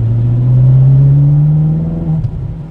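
Ferrari engine revving from inside the cabin, a loud steady rumbling drone that rises then eases off near the end with a brief blip, no talking over it.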